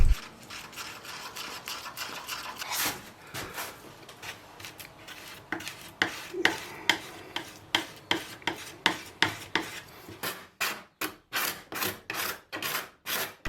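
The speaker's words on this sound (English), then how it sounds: "I'll add in some fine sawdust, and then I'll use that as a putty to fill in those holes" Fine sawdust mixed with epoxy into a putty and worked into holes in firewood-turned shelf stock makes dry, close scraping strokes, irregular at first and then a steady rhythmic series of rasping pushes.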